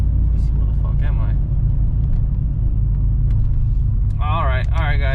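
A custom Chevrolet TrailBlazer SS being driven hard, its engine holding a steady deep rumble throughout, with someone talking over it.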